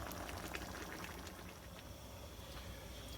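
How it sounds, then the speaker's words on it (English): Tomatoes for a golden yellow tomato sauce simmer in a pot, a steady soft bubbling hiss with faint scattered pops, low and continuous throughout with no voices. "make sure that the tomatoes are simmering at least 10 to 15 minutes"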